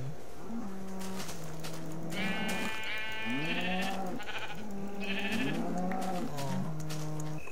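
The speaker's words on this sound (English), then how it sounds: "Ooh, the sheep. I need sheep." Sheep in a Minecraft-style video game give repeated wavering bleats, rising and falling. They are clear and fairly close, with cattle-like moos mixed in.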